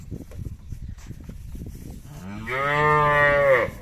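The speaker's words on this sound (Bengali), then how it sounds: "এই যে আমরা সামনে দেখছিলাম বেশ কয়েকটি বাছুর" A calf at a calf market lets out one long, loud moo near the end, preceded by soft rustling and shuffling.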